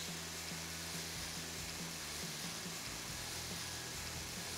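Beef pieces sear in a pot for goulash, giving a steady, faint broadband sizzle that runs unbroken throughout with no voices.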